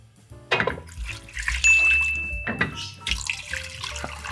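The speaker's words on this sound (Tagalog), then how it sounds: "Tapos lagyan natin ng tubig" Water splashes and runs from a tap into a cooking pot of pork belly in short bursts, with clinks and knocks of the pot between the pours.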